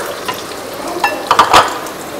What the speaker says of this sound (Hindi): इसको हम गरम तेल में डाल देंगे